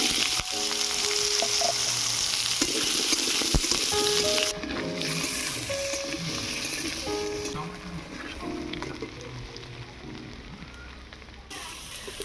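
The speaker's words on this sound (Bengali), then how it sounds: "আলুটাকে এবারে হালকা করে ভেজে নেব" Potatoes frying lightly in a pan make a steady, close sizzle and crackle that runs throughout, with occasional stirring and faint background tones but no talk.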